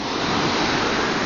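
Ocean surf breaking on the beach at Playa del Saler in Valencia, a close, steady, dense roar of rushing water with no pauses and no voices.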